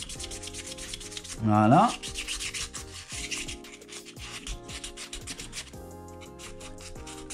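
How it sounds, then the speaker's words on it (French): Fine sandpaper scuffs the inside grooves of an ABS RC car body to prepare it for gluing. Close, repeated rasping strokes come in a steady rhythm, with one short spoken word early on. "je vais poncer ici l'intérieur pour la colle"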